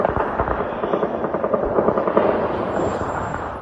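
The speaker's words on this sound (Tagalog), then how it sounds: "Sa isang punto ng pagvivido ni Glenda, tila mga pagputok ng mga baril na ang naririnig" Rapid bursts of gunfire crackle during an attack, a dense, continuous string of sharp reports over a rumbling background, somewhat distant and unbroken for several seconds.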